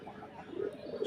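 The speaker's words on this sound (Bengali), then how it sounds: "কবুতরগুলো কিন্তু ভালোই বাকে।" Pigeons at a pigeon farm giving a short low coo, close and soft, lasting about a second.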